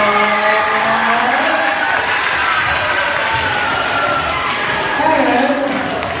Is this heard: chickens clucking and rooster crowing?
no